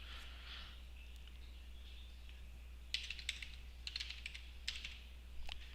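A password being entered on a computer keyboard, quiet clusters of quick key taps in short bursts against a faint steady background hum, close and soft.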